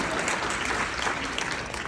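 Audience applause, a dense steady clapping from a crowd filling the whole brief stretch, loud and close with no talk over it.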